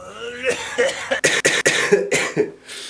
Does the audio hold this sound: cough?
yes